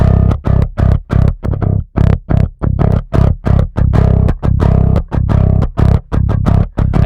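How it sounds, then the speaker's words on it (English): Bass guitar DI driven through the Saturn distortion plugin ahead of the amp for a metal mix, a loud gritty mid-range grind in tight, rhythmic chugging bursts separated by short gaps. "I distorted the DI before the amp with Saturn."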